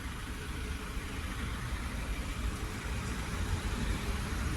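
Close by, an Orion RF244RE tractor engine idles with a constant, moderately loud mechanical rumble and chug that holds steady from start to finish, with no speech.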